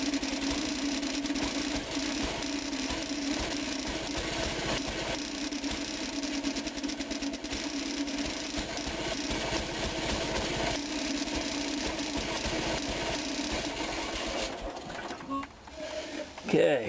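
An Onan engine idles steadily during carburetor adjustment, a continuous mechanical hum and rattle with some brief clicking and handling noise near the end.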